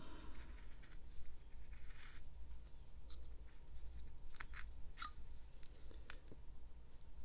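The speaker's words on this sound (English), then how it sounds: "give myself a stop cut like this and slice up to it" A carving knife slices into wood while whittling a simple wizard figure, producing short scattered scraping and crisp cutting strokes, close and fairly quiet over a low background hum.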